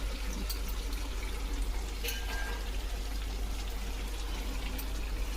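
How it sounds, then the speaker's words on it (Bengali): Water poured into chicken curry cooking in a pan, a steady close hissing, bubbling wash of liquid with a low constant hum underneath. "এবারে মাংসর মধ্যে জল ঢেলে দেবো"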